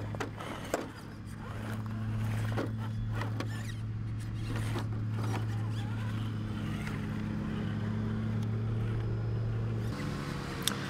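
Traxxas TRX-6 Mercedes-Benz AMG 6x6 RC truck driving over rough terrain, a steady electric motor whine with faint, uneven knocks and clatters from the wheels and body, fairly quiet throughout.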